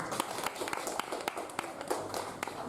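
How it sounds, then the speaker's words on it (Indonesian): Audience applause at an evening Indonesian literary poetry-reading event, a steady wash of many hands clapping with sharp individual claps popping out, sustained throughout at moderate level. "Tepuk tangan yang meriah."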